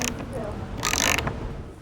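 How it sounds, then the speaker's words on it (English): A socket wrench tightens a nut onto a carriage bolt while building a wooden picnic table, giving a quick series of close ratcheting clicks and mechanical rattles. "After adding a washer and nut, we'll snug it tight with a socket wrench."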